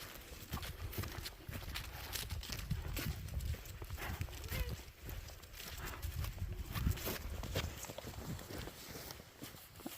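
Hooves clip-clop as a pony runs a little over grassy ground outdoors, a close, steady patter of footfalls with a speaking voice over it.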